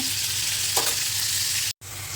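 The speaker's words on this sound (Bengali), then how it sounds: "সামান্য রসুন বাটা দিয়ে দিলাম মরিচের গুঁড়া দিয়ে দিলাম তার থেকে পরিমাণ মতো হলুদের গুঁড়া দিয়ে দিলাম মশলাটাকে ভালো মতো কষিয়ে নেব" Spice paste of garlic paste, chili powder and turmeric fries in a pan with a dense, steady sizzle close by, a brief stirring scrape, and a very short cut near the end.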